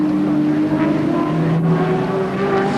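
V8 touring cars race at Symmons Plains in 1986, a loud, continuous engine roar with layered pitches that rise slightly as the cars pass, with no speech over it.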